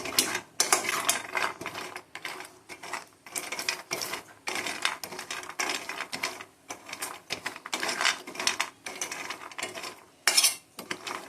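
Walnuts dry-roasting in a pan over medium heat rattle and scrape in repeated short bursts as they are stirred, with close, irregular clattering separated by brief quiet gaps.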